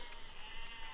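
A single short sheep bleat from the video game Besiege, close and clear, with no voices heard.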